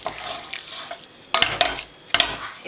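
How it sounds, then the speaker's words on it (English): A utensil scrapes and stirs coconut into beef rendang in a pan, with soft scraping and a few sharp clatters against the metal. No one speaks. "And stir in the coconut."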